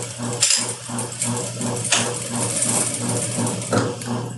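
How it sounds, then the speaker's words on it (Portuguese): A sewing machine presser foot stitches two layered patchwork fabrics from one end to the other, giving a rapid, even mechanical whirr with a regular beat and a few faint clicks. "vou passar o pezinho de máquina da ponta a ponta"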